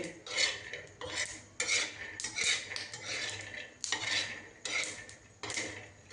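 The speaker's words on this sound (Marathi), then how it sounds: "आधी शेंगदाणे भाजून घेते" Peanuts dry roasting for chutney in a pan are tossed and stirred in repeated bursts, each a close, rattling, scraping rush of nuts against metal, about seven rounds in quick succession.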